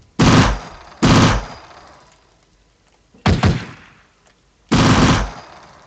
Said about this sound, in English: Is this the tsunami machine gun?